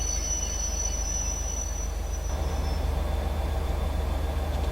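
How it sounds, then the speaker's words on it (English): A train in Train Simulator 2016 on the Darlington to Middlesbrough route eases into a platform under braking, with a steady low wheel rumble and a thin, high wheel squeal that fades midway. No one speaks. "Just easing the train in."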